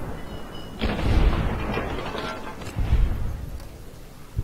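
A heavy, booming gunshot fired at an enemy's leg in Fallout: New Vegas (Honest Hearts), with a second thudding report a couple of seconds later, both rolling over dense ambient noise.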